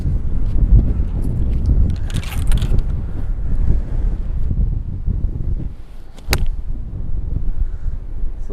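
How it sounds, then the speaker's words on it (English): Wind buffets the microphone on a golf course, a loud, continuous low rumble with gusting swells and a brief crackle near the end. "A lot of wind up there."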